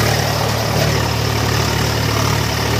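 Eicher 485 tractor pulling a harrow through a field, its diesel engine droning steadily and loudly under load with a constant low rumble and no talk.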